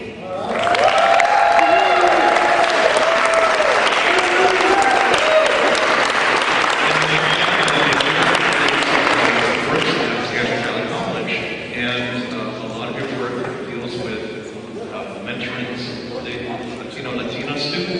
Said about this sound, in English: So we applaud your work.